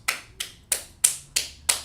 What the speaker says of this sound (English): Let's clap it up for the brother right there